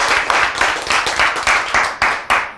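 Rhythmic clapping from a church congregation, loud and close, with steady hand claps arriving at a regular beat of about three per second over a broadband wash of many hands.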